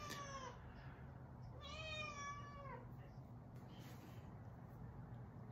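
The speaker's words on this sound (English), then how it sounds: "you can hear my cat whining at me" A pet cat meows in a home kitchen while hushpuppies are being cooked: a short cry, then a longer, drawn-out whine about a second later, fairly faint over a low steady background hum.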